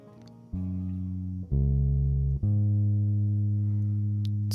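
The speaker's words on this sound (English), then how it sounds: "The bass is the DI from my Squier Jaguar bass." Squier Jaguar bass recorded direct and finger picked softly through a high-pass filter, playing three long, round low notes in slow succession, each ringing out cleanly and alone.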